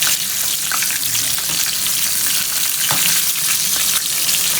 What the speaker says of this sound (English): I'm using a frying technique today